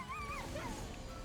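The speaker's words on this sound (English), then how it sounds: "why do they put in the dog dying sound?" A dog's dying sound effect from the video game Monster Train 2: a thin, wavering whine that rises and falls twice, fairly faint over a steady low background.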